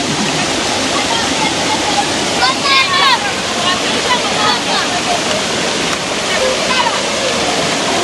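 Steady, loud rush of river water flowing fills the scene continuously, with faint voices and brief higher chirping sounds mixed in.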